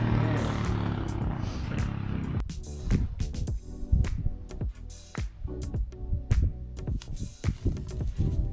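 A motorbike arrives at a farm where a 200-year-old barn is getting a new foundation, its engine roaring in uneven surges that rise and fall through the clip, close and loud, with brief gaps between bursts.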